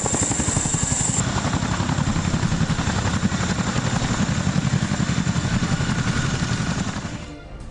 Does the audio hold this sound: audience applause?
no